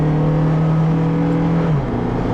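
The 2.4-litre engine of a 2010 Honda CR-V accelerating, a loud steady drone rising in pitch, then dropping abruptly as the automatic transmission shifts near the end.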